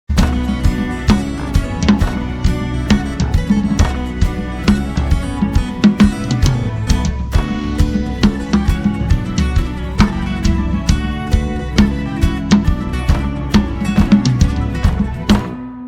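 Violin, flutes and guitar play a jig theme together in full ensemble, a dense, steady, bouncy rhythm with percussive accents, loud and continuous throughout.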